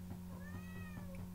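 A house cat gives a single soft, drawn-out meow that rises and falls, faint and heard over a steady low electrical hum indoors.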